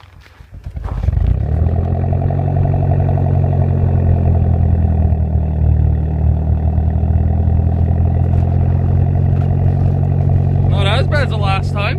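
A Mitsubishi Lancer Ralliart engine cold-starting in winter at around minus 30: the engine catches after a brief crank and settles into a loud, steady, rough idle, with a quick voice over it near the end.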